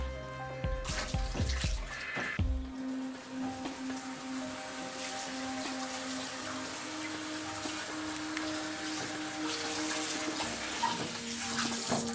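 Tap water pouring into a bath, a steady continuous rush of splashing water after a few clunks and knocks as the flow starts, close and fairly loud, with no talk.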